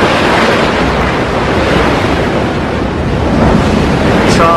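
Strong wind and rough waves on the shallow, rock-confined Irish Sea, a loud continuous roar with heavy wind buffeting and no letup.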